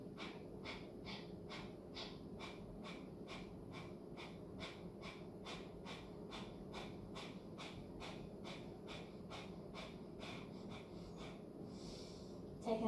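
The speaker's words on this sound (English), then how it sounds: "Breathing in, and we're going out of our nose as fast as we can." Rapid, forceful breaths pushed out through the nose in yoga breath of fire, a steady train of about two dozen evenly spaced sharp huffs close to the mic, with a constant low hum running beneath.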